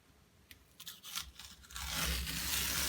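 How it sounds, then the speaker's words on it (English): Masking tape peels off the edges of an acrylic cumulus-cloud painting in a few quiet crackling tears, building into a longer, steady ripping strip near the end. "we'll pull the masking tape off and unveil our latest"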